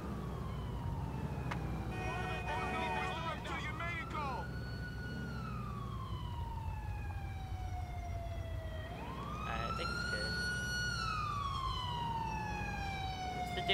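A wailing ambulance siren in the video game GTA IV sweeps up and down in pitch, fading slightly then rising again, over a steady engine-like drone.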